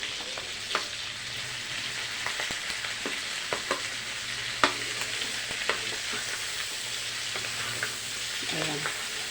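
Onions, garlic, black peppercorn and bay leaves sizzling in a pan for pork adobo, a continuous close frying hiss with intermittent scraping stir strokes and light knocks, no talking.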